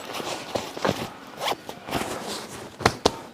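A zipper rasps shut in several quick pulls as a self-inflating camping mat is sealed into its roomy storage pouch, close up and crisp with short bursts and brief pauses.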